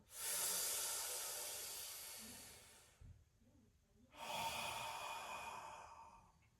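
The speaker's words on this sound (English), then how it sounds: "Up, fill up, exhale, out, empty out." Deep yoga breath work: a long, loud, close airy exhale, a quiet pause, then another strong breath rushing out, breathy and hissing with no speech.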